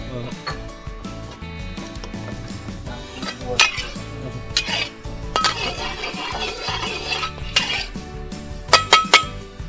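Metal utensils clank and scrape against a wok in busy, irregular bursts while cooking rice-field crabs, with voices talking in the background.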